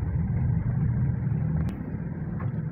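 A 2017 Toyota Vios with a dual VVT-i engine drones steadily from inside the cabin while driving, a constant low rumble with little variation and no talking.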